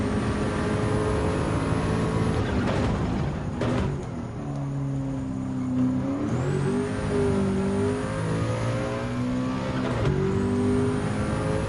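A Group 1 race car with a five-speed transmission accelerates in Gran Turismo 7, its loud engine note climbing in pitch, dropping briefly at gear changes and rising again, steady and close throughout.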